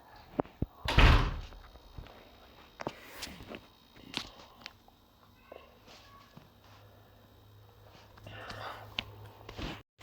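An indoor door swings shut with a loud thump near the start, followed by scattered footsteps, knocks and light handling noises in a quiet room, with faint voices nearby.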